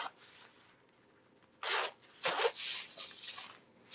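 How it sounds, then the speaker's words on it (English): Zipper on a clothing item being worked close up, quiet rasping pulls in several short bursts separated by soft rustling. "You have the functional zipper that's right here."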